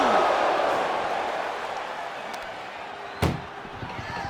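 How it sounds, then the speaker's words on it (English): Ambulance door slammed shut in the wrestling video game WWE 2K25, a single sharp bang near the end over a fading arena crowd roar and commentary. "Trying to at least slam one door shut."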